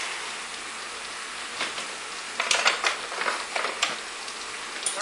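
Matzoh and egg batter mixed by hand in a bowl, a wet crackling, squelching texture with a few louder bursts of mushing and crumbling, close up and alone.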